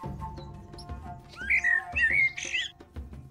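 Bird chirps and whistling squawks in the video game Copycat, a few bright rising calls clustered in the middle over low rumbling game ambience and soft thuds.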